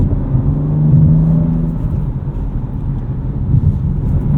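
A 2025 BMW M2 with a six-speed manual revs above 4,000 RPM, a loud, close, droning engine note with a rising then steady tone, heard from inside the cabin without talk.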